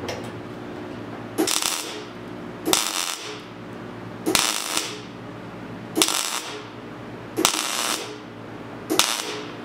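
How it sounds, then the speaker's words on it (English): Tack welding a patch onto the roof of a 1972 Triumph GT6: six sharp, crackling bursts roughly every one and a half seconds, each loud and brief, with a low hum between them and no voices. "And now I can weld."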